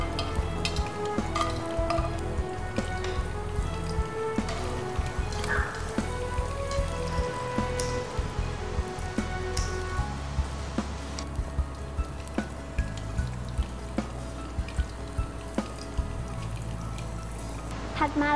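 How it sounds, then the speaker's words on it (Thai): Cashew nuts and dried chillies frying in hot oil give a steady, dense crackle and patter throughout, with occasional clinks and stirring underneath. "เรายังต้องทอดเม็ดมะม่วงหิมพานต์กับพริกแห้งด้วยค่ะทอดไปในคราวนี้เลยนะคะ"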